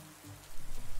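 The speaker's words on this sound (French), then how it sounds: "Il commence à pleuvoir très fort." Heavy rain begins pouring at a campsite, a dense hiss of drops that jumps louder about halfway through and keeps drumming steadily to the end.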